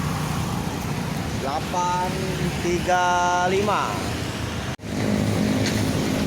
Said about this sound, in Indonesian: kedatangan dari Ranah Minang, Sultan Class NPM V80 mengarah ke Jabodetabek